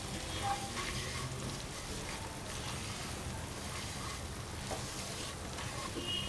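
Flour with a pinch of salt and black pepper sautés in a pan, giving a faint, continuous sizzle and stirring rustle that stays even throughout.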